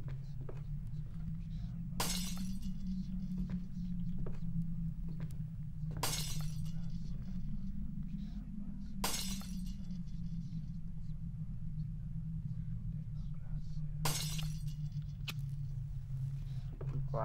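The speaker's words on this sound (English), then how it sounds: "Glass is slowly breaking." Glass shatters in bursts within the indie horror video game Minds Eyes, four sharp crashes spaced over a steady low rumbling drone, with no talk.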